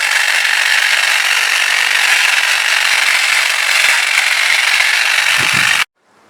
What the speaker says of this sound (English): we'll get the hedge trimmer going and we're not going to go too deep